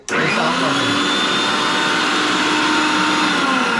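A kitchen machine's kneading attachment whirs steadily through 300 grams of flour, a loud, even motor drone that starts abruptly and holds constant.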